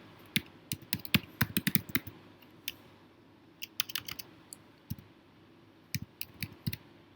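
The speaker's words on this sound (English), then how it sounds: "So I'm going to type here" A search term is typed on a computer keyboard in quick close bursts of crisp keystrokes separated by short pauses, with no talk.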